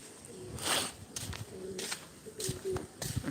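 Pigeons coo in low, soft, repeated calls nearby, with some fluttering and background noise between the calls.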